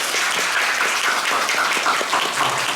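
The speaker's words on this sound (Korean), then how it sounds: "큰 박수 부탁드립니다." A theater audience applauds at the curtain call of a musical's final performance, a dense, even wash of clapping that sounds close and loud throughout.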